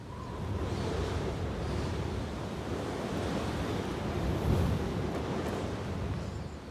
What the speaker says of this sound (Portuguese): o vento estava simplesmente uivando